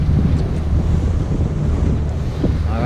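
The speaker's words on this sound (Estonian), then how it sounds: "Korralik purga on seal ees igatahes." Strong wind buffets the microphone over a rough sea, waves surging and slapping near a small boat in a harbour area, a loud continuous roar with no voices.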